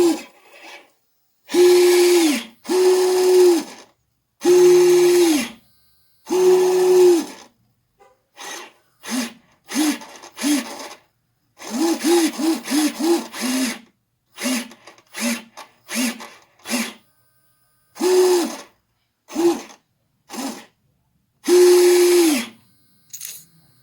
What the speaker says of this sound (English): So that's the action on the servo there.